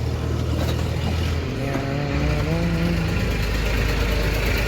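A tractor engine runs loudly nearby during a towing job, its pitch shifting and rising as it works harder and pushes forward.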